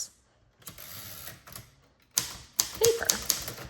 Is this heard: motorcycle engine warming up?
no